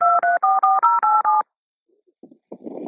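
Telephone keypad tones as an emergency call is transferred: a rapid run of seven clear, evenly spaced dialing beeps, then a pause and faint line clicks and noise.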